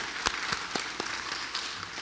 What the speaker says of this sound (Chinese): 鼓掌欢迎